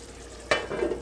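Egg dropped into Israeli shakshuka in a pan, a sudden burst of sizzling and frying that then settles into a softer crackle.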